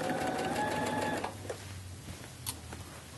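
A sewing machine stitching a shirt seam runs briefly at a steady whirring hum, then stops, followed by a few soft handling taps and clicks as the fabric is adjusted, close by, with no talking.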